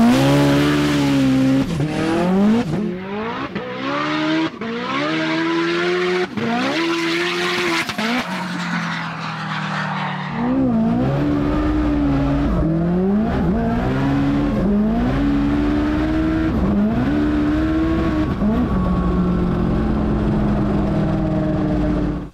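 A 1,000-horsepower all-wheel-drive Honda Civic launches down a quarter-mile drag strip at Australia's Turbosmart Ultimate Street Car event, its engine screaming up through repeated gear changes with chirping tyres, loud and close.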